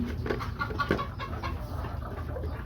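Farm-raised laying hens in a hen house give soft, scattered clucks and brief calls close by over a low, steady background rumble.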